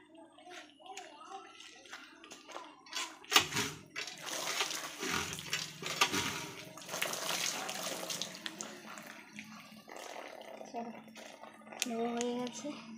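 Water splashing and running while a bathroom is washed and cleaned, an uneven stream of pouring and slapping water in a close room, with a voice speaking over it.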